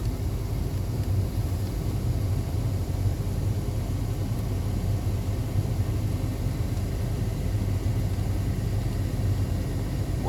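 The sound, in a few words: 1991 Cadillac Sedan Deville air conditioning blowing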